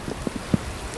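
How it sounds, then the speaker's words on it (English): Rain comes down outdoors around a BMW M4, a soft steady patter broken by a few louder nearby drops or taps, no voices present. "And here comes the rain again."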